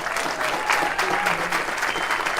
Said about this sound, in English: And another amazing round of applause for Mayor Gwen Stroud.